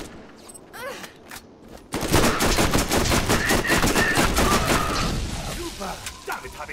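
Rapid automatic gunfire in a Borderlands boss fight, starting after a quieter opening with voices and then bursting into dense, loud, continuous rattling shots that taper off toward the end.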